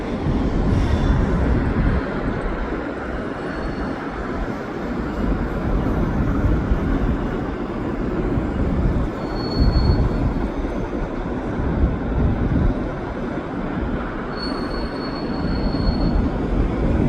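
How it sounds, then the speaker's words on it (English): A Via Rail passenger train rolls past in Griffintown at sunset, heading out of Central Station with its power car at the end. A loud, steady rumble of wheels on rails carries occasional thin squeals, with no talking over it. "here we have a Via train headed out of Central Station"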